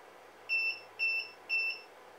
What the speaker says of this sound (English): there is a warning beep sound.